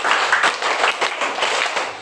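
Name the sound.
applause from audience after children's drama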